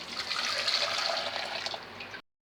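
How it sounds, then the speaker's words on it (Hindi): Strained tamarind water for sweet-and-sour tamarind chutney is poured into a pan, giving a steady, close splashing flow of liquid for about two seconds before it stops abruptly. "अब हमने ये जो स्ट्रेन किया हुआ पानी है इसी पैन के अंदर डाल देना है"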